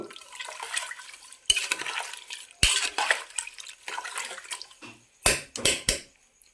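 Wet, scraping stirring of a thick rice and lentil mixture for bisibele bath in a metal pressure cooker, in uneven bursts with sharp clanks between strokes.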